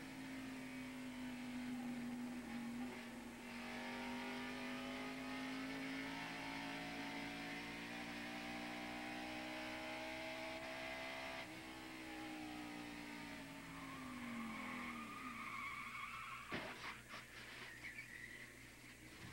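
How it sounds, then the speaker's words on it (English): Engine roar inside a 1989 NASCAR Winston Cup stock car at Rockingham, heard from the in-car camera. A loud, steady drone rises and falls in pitch as the car runs, with a short rattle of impacts near the end. "Here's a replay from Harry Gant's in-car camera"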